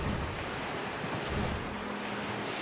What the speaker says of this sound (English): we can actually run on these rapids.